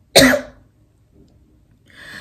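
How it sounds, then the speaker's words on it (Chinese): A person gives one sharp, close cough, followed by quiet breathing and a faint throat sound. "看我要开始咳嗽了，我这个月经常这样"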